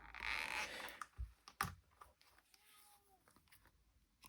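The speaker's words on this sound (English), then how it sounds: "the cat is wanting to come in again" A house cat outdoors meowing to be let in, a short faint rising-falling meow heard after louder bumps and clattering close by.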